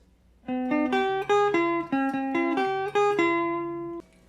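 A guitar plays a melodic kompa solo line of about ten clean, ringing plucked notes at a moderate pace, each sustaining into the next, with no voices.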